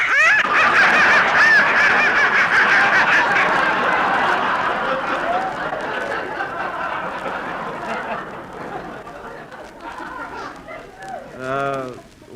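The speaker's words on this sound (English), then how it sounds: "that noise came from some live ducks I've got in the basement" Live ducks in a basement break into a loud, dense chorus of honking and quacking that slowly thins out, closing with a few distinct squawks near the end.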